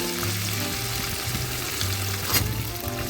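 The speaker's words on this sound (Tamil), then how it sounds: "நல்லா இதை ஃப்ரை பண்ணுங்க." Curry leaves, chopped coriander and ginger-garlic paste frying in a pan, a soft steady sizzle with faint stirring and scraping, close and quiet, no talk.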